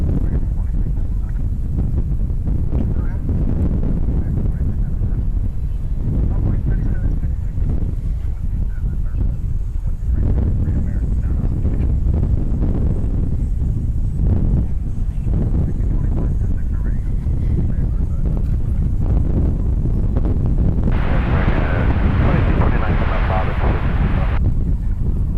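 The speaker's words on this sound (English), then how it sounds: "it's getting very blustery" Strong, gusty wind buffets the microphone outdoors at DFW Airport at night: a loud, continuous low roar that swells and eases, with a brighter hissing gust near the end.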